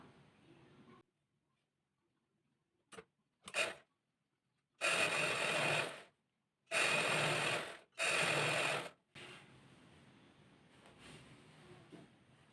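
Sewing machine stitching a folded chudithar sleeve hem with several short bursts and three longer runs of near, loud whirring, separated by pauses and quiet handling.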